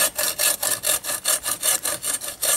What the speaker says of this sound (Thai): เลื่อยเข้าไปประมาณเพื่อให้ตรงที่เปลือกเนี่ยขาด